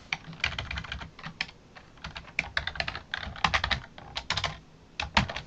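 Rapid keystrokes rattle on a computer keyboard during work on an AROS Amiga system, clustered bursts of close clicks separated by brief pauses, no speech.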